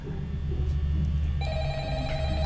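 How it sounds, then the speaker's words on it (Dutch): A telephone rings in the VR horror game Five Nights at Freddy's Help Wanted, its bell tone starting partway through over a loud, low, steady hum, clear and close. "Oké, laten we de telefoon opnemen."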